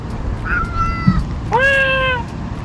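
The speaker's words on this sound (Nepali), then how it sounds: "बिरालो।" Cat meowing outdoors at a Portuguese fishing harbour, two clear drawn-out meows close by over a low background rumble.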